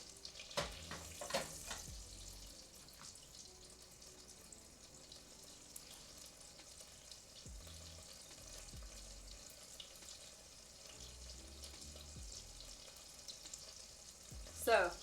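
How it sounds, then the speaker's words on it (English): Butter bubbling in a pan, a quiet continuous sizzle with faint crackles, occasional clinks and a few soft utensil knocks at the start and end. "That butter is bubbling."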